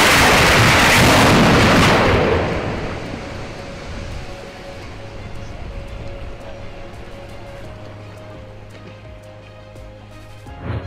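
Explosives blast hard rock underwater during undersea tunnel construction, opening with a loud, deep, booming burst for about two seconds that decays into a long, low, churning rumble.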